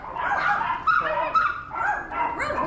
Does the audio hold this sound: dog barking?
yes